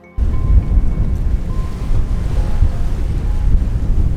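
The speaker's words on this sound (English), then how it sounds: "These are definitely the strongest winds we've seen so far." Strong wind on a sailboat, roaring as heavy buffeting against the microphone with waves and water noise beneath, loud and continuous throughout with no voices.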